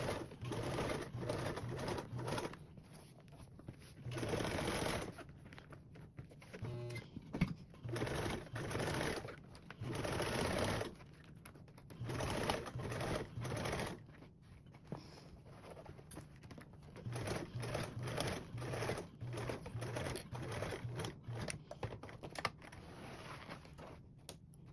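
A sewing machine top stitches a duffle bag in several bursts of rapid mechanical chatter, pausing between runs, close and alone.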